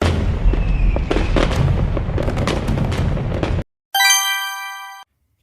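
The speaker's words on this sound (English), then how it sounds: "It's fireworks." Fireworks burst in a rapid, loud series of booms and crackles, close and dense, then cut off and a bright chime follows alone.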